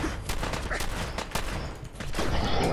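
Rapid bursts of combat shotgun fire in Fallout 4, loud repeated blasts in quick succession over a dense, noisy game soundscape.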